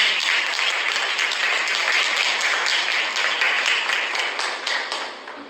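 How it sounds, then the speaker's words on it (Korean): An outdoor rally crowd claps loudly and continuously to welcome a speaker. The dense wash of many hands stays strong before gradually thinning and fading near the end. "다시 한번 박수로 맞이해주십시오."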